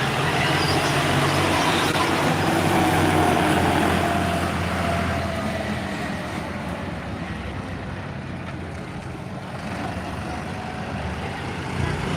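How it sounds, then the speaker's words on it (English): Tractor making passes down a drag racing strip at an Australian radial drag racing event, a broad steady engine roar with wind buffeting, loud and continuous throughout with no talk. "Tractor making a couple passes."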